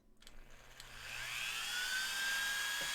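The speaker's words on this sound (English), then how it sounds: "I think I'm just gonna drill the whole fucking collar." A power drill bores into a metal collar in a workshop, its whine climbing steadily after a couple of short clicks and holding as a loud, high, sustained tone. No one speaks.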